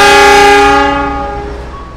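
The Lodaya passenger train, bound for Bandung, sounds its horn loudly and close by as it departs the station, the blast sustained and then fading out over two seconds.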